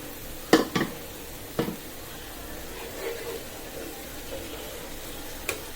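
Spice-coated snake gourd slices are added to a pan of already fried onion, garlic and green chili, giving a soft, low sizzle with a few sharp utensil clatters early on and no talk.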